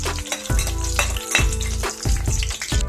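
Dried red chillies and garlic cloves fry in oil in a pan, a loud close sizzle with rhythmic scraping and stirring strokes repeating about every half second, no voices.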